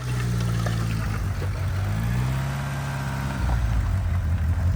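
A Mitsubishi Eclipse car drives under its own power nearby, its engine holding a steady mid-pitched drone that rises and falls slightly with throttle and carries on loud and unbroken without talk.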